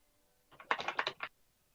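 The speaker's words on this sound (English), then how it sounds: "You can hear my keyboard typing," A brief flurry of computer keyboard typing, about eight crisp key clicks in quick succession, close and alone against near silence.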